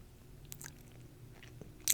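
Gum is chewed close to the microphone in a quiet ASMR recording, soft intermittent wet clicks and smacks with a sharper snap near the end.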